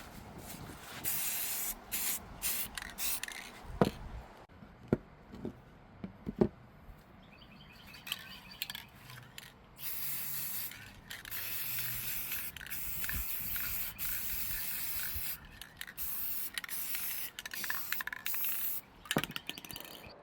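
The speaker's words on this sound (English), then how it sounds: "gave it a couple coats of my favorite gold spray paint" A can of metallic gold spray paint hisses in long, steady bursts with brief pauses between them, close and continuous, with faint bird chirps in the background.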